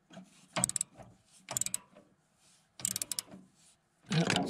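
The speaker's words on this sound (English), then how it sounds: "So I've got a 1/2-inch socket right here on an extension, and I'm just going to tweak that just a skosh to loosen it." Half-inch socket wrench on an extension loosening a nut on a Wood-Mizer LT40 sawmill, giving four separate bursts of ratcheting clicks with short pauses between them, close and fairly loud.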